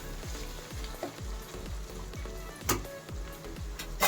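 Tomatoes are fried and stirred in a pan: a soft, low sizzle under a regular pattern of scraping strokes, with a few brighter clinks of a utensil on the pan. Nobody speaks.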